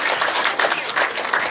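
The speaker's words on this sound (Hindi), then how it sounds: "जोरदार तालियां मोहित शौर्य के लिए साहब" A crowd at a Hindi kavi sammelan poetry gathering gives loud applause for the poet Mohit Shaurya. The clapping is dense and close, fills the short moment, and cuts off abruptly at the end.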